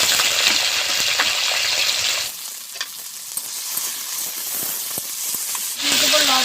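Eggplant and potato hit hot oil in a pan for a Bengali dish with khesari greens, giving a loud, close sizzle that quiets to softer crackling with small clinks, then surges again near the end.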